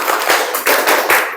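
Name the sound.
rhythmic class clapping, 'math clap' routine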